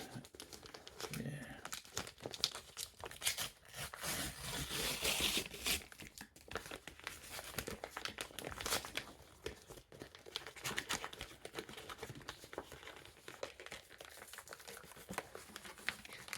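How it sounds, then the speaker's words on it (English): Continuous crinkling and tearing as a large Amazon package is ripped open, close and busy, with rustling and ripping over several seconds and voices talking underneath. "We're gonna rip this baby open here, and we'll go through what's inside."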